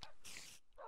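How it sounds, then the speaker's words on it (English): Dogs in the video game Minecraft give a couple of quick, short barks and yips, close and brief, with no talk over them. "Whoa, dogs, chill."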